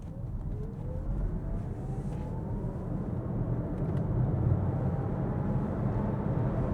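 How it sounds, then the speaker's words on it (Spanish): A 2026 Volvo EX40 electric car accelerates hard onto a highway, its rising electric motor whine sweeping upward over a steady roar of road and tire noise heard from inside the cabin. "Frenamos acá a la entrada de la autopista y pedala a fondo."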